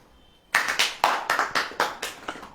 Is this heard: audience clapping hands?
yes